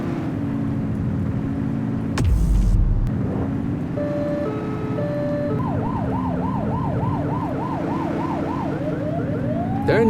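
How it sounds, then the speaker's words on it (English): A police car siren in The Precinct video game starts with a short horn blast, then wails and yelps in rapid rising-and-falling sweeps over a steady engine hum, loud and close. "Turn that siren off."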